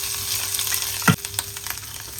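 A soft steady sizzle with one sharp clatter and burst of hiss in the middle as hot tempering is poured onto cooked rice, then continued quiet crackling.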